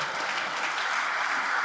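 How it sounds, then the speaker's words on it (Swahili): Church congregation at a Pentecostal service clapping for Jesus, a dense, continuous burst of applause from many hands, close and full, with no voices over it. "Mpigie Bwana Yesu makofi"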